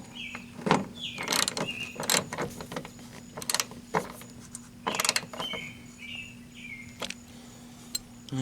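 A ratchet tightens the door striker on a 1987–1997 Ford F-series truck, sounding as a series of sharp, close clicking strokes in irregular bursts, with faint birdsong chirping in the background.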